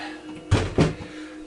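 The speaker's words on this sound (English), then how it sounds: "Close the door." A door pushed shut indoors, giving two quick, solid thumps close together against a quiet room hum, with no talking.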